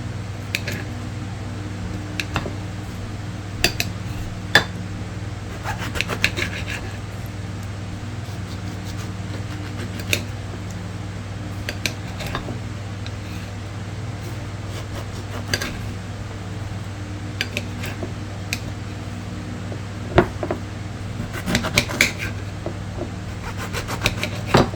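A knife slices food on a cutting board, making faint, irregular taps and scrapes over a steady hum from a fan in the room.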